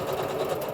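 A sewing machine running at a fairly fast pace, a continuous close mechanical whir and rapid stitching hum with no pauses.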